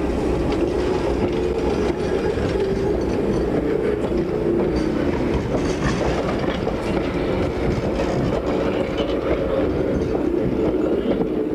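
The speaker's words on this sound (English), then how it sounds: "just arrived at 50th Avenue is perhaps one of the most celebrated trains in the country, the Electroliner" The Electroliner, a 1941 North Shore Line interurban electric train, rumbles steadily along the rails at a railway museum, with continuous wheel clatter and low running noise throughout and no talk.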